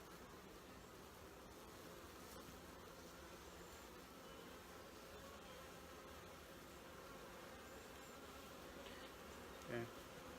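Honey bees buzzing in a dense, steady drone throughout, close and continuous during a natural-beekeeping hive inspection in July, with a brief handling sound near the end.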